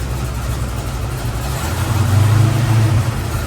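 A car engine runs steadily up close, its low rumble swelling slightly louder and deeper partway through as the driver eases on it while trying to get the car to shift into second gear.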